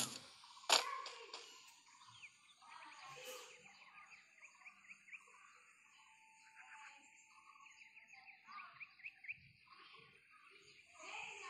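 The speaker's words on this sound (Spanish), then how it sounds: "Se oyen pajaritos y toda la cosa que nunca oigo cuando estoy jugando modo normal." Birds chirp in the ambient soundscape of the Free Fire video game: scattered, faint tweets and short trills over a quiet background, with a sharp click near the start and a few stronger calls later on.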